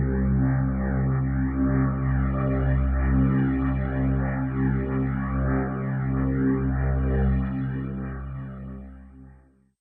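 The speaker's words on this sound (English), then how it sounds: "which enables you to further process the sound like this rotator effect, which throws the sound around between the left and right speakers in a cool effect" Nucleus Lite orchestral pad, a sustained layered string-like chord held steadily for nearly ten seconds, with a rotator effect sweeping it between left and right speakers in a slow swirling pulse before it fades out at the end.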